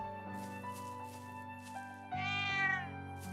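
Within the video game Trails of Cold Steel II, a cat gives a clear, drawn-out meow near the end, heard over soft sustained background music.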